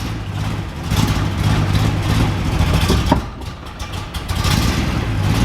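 Four-cylinder engine of a Datsun 240C running close by with a steady low rumble and slight unevenness throughout.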